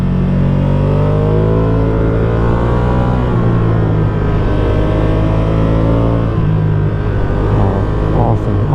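Motorcycle engine on a Swiss mountain pass near Gadmer Pass, revving up and down steadily as the rider works through the gears, loud and close with rising and falling pitch throughout.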